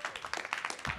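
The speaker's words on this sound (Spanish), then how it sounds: "Por favor, aplausos" Short burst of audience applause at a Django programming talk, rapid overlapping claps for about a second, moderately quiet and slightly distant.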